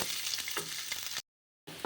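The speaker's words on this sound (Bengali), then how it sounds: "পেঁয়াজগুলিকে আমি লাল লাল করে ভেজে নেব" Onions frying in oil over a medium flame with a steady, close sizzle that cuts out abruptly into silence, then returns briefly.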